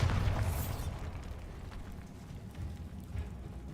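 Bombarda blasting spell detonating in Hogwarts Legacy: one deep, booming burst at the start that trails off into a low rumbling tail, with no talking.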